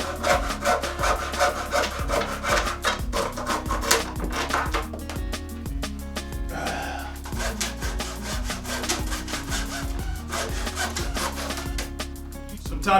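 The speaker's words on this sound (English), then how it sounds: "we're using the Dingham hacksaw" Hacksaw strokes through a piece of wood being shaped into a homemade fishing float, a steady back-and-forth rasping that keeps up a close, even rhythm for the whole stretch with no talking.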